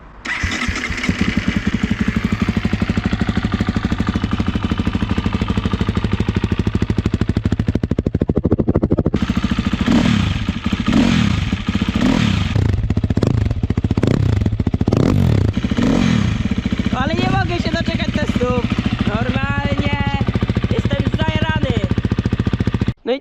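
A cold motorcycle engine is cranked and sputters, then fires up and runs loudly nearby with uneven revving and clattering, rising and falling in pitch.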